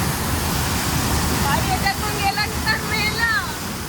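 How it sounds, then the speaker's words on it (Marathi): Water rushes loudly and continuously through a narrow channel at a waterfall in Amboli, a dense roar with excited voices talking over it midway. "आणि केवढ्या गल्लीतून पाणी जात आहे बघ."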